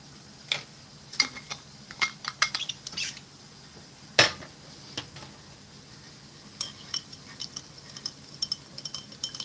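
Pasta fagioli stirred in a pot, with soft scattered clinks and taps of a utensil against the metal at irregular intervals, fairly quiet over a low background hum.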